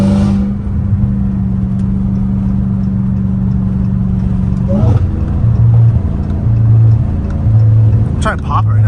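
Dodge Challenger Hellcat Redeye running with stock exhaust and mid muffler deleted, its engine droning steadily and rising in a couple of revs, with a sharp crackle near the end, all under close talking.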